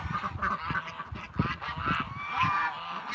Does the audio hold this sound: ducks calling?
yes